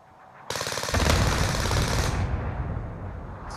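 Automatic gunfire from a gun in a video game, a loud, rapid burst of shots lasting a couple of seconds before tapering off, with no talking over it.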